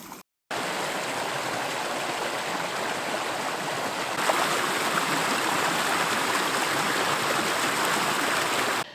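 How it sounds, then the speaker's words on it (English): Stream water flows steadily in a desert setting, a continuous close rushing and burbling that holds at even loudness after a brief silent gap at the start. "You hear the water?"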